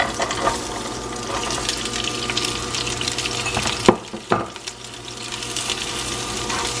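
Onions go into a pan of hot olive oil over medium-high heat, producing a continuous close sizzle and crackle with a couple of brief clattering stirs near the middle, no voices.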